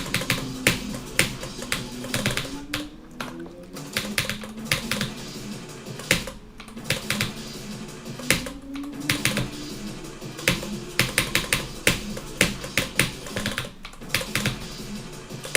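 Fast keyboard clicking from a player in a rhythm game, dense bursts of sharp taps in quick irregular rhythm, close and loud, with brief pauses between runs.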